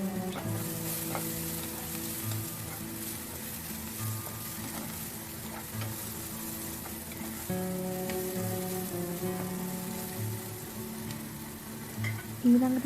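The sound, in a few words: garlic, green chillies and red onion sizzling in pan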